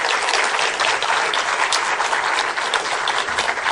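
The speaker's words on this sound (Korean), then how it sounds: "여러분 다시 한번 큰 박수 부탁드립니다." Dense, loud audience applause fills a hall at a constitutional court's 20th anniversary ceremony, continuous and even clapping from many people with no talk over it.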